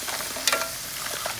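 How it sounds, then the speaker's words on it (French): Lobster frying in a pan with ginger and onions, giving a steady close sizzle with a brief louder burst as the pieces are stirred. "On va faire griller un peu, faire cuire pour qu'il absorbe les parfums de gingembre et des oignons."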